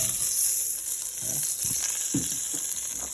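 Vegetables sizzling as they go into a hot pan with browned fond for a chuck roast, a steady bright hiss with a few soft bumps and stirs under it, close and alone.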